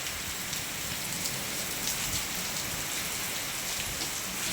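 Steady rain hisses and patters on a surface throughout, dense and even, with no talking.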